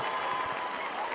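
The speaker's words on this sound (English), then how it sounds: "I'm very used to long claps like that." Dense, continuous applause from an audience, a steady wash of clapping heard close for just over a second.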